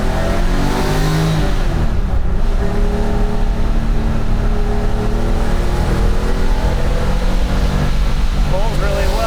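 A 1974 Porsche 911 accelerates hard through the gears on a drive, its engine rising and dropping between shifts, loud and close from inside the car.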